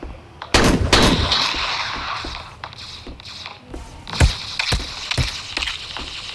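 Several sharp gunshots in the game Bedwars, a few clustered bursts with quieter clicks and shuffling between them, loud and close, with no talking.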